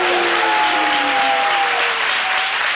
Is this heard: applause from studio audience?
yes